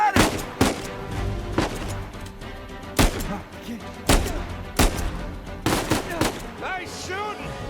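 Repeated gunfire in the video game Uncharted 4, sharp loud shots and short bursts cracking every second or so over a dense game soundscape, with voices talking faintly in the mix.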